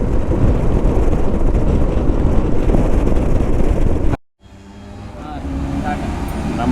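Steady loud wind buffeting and engine rumble while riding a Royal Enfield Himalayan motorcycle on a road from MM Hills toward Yercaud, cutting out abruptly for a moment before resuming more softly.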